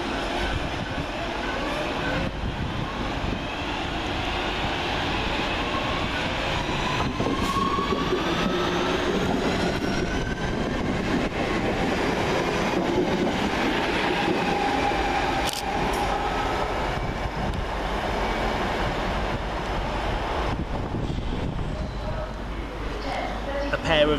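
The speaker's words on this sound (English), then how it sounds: "And as that sits in the station, 323-229 departs." A Northern Rail class 323 electric train departs Deansgate station, a steady rumbling roll with wheel noise and faint squeals building over about twenty-four seconds, heard on the platform with background sounds.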